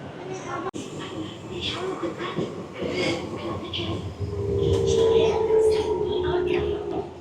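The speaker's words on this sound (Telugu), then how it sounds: "ట్రైన్ చూడండి ఎంత ఫాస్ట్గా వెళ్ళిపోతుందో" An MRT metro train runs through an underground tunnel in Malaysia, a steady rumble that swells into a louder whine toward the end, heard from on board beneath talking.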